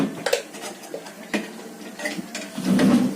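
Salt stirred into a flour mixture in a metal pan for a Malvani-style dry kulith dish, with close, uneven scraping and clinking of a spoon against the pan, ending in a denser rasping stir.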